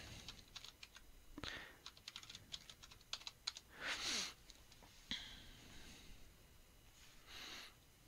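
Soft keystrokes on a computer keyboard come in short, uneven bursts as a password is entered during a Windows Server 2019 install, with quiet sniffs and breaths in the background.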